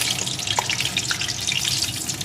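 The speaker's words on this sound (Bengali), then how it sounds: "একটা কাঁচা লঙ্কা লঙ্কাটাকে একটু ভেজে নেব" A green chilli frying in hot oil in a home kitchen pan, a steady close crackling sizzle throughout with a faint clink, no talk.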